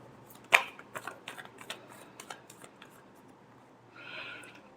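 Tarot cards being shuffled close up: a sharp initial snap followed by a quick series of papery flicks and riffles, then a softer sliding rustle near the end, with no talking.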